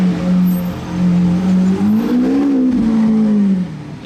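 A V12 supercar engine revs on a Monaco street, a loud, close, droning growl that holds steady, dips, then climbs and sweeps in pitch before easing off.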